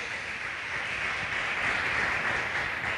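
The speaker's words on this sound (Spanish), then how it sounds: "Den un aplauso al Señor, por favor, bien fuerte." Congregation applause during a church service, a steady wash of clapping throughout, moderately loud and unbroken, with no voices on top.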